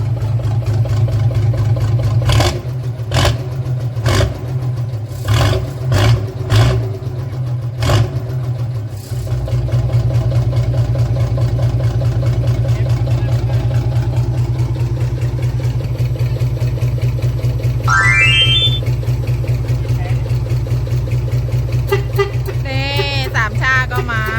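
A powerful car engine runs up close in a loud, steady idle with a deep throb, broken early by sharp bursts of revving and later joined by a few brief squeaks.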